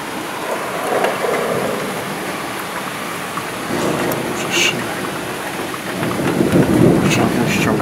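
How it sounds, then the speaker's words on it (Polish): Morning thunderstorm in Łowicz, Poland, with rolling thunder rumbling in several swells over steady rain, and a voice speaking briefly amid the storm. "Liczne wyładowania."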